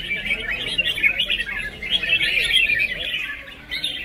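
Red-whiskered bulbuls call continuously at a songbird fighting contest, a dense, busy chatter of bright chirps and squawks that stays loud and steady throughout with barely a pause.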